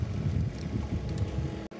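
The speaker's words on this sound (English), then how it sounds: "it's just so windy we couldn't get the drone up" Steady low rumbling wind buffeting the microphone, continuous and fairly loud, with a brief dropout near the end.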